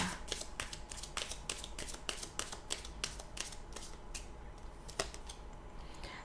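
Romance Angel oracle cards being shuffled and drawn during a love reading, a run of crisp, close riffling snaps and flicks in quick irregular bursts, thinning out toward the end with faint talk underneath.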